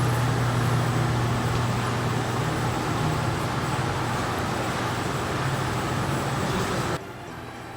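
A car with a built 1JZ engine rolls up a driveway, giving off a steady, loud broadband rumble of engine and road noise that drops off sharply near the end.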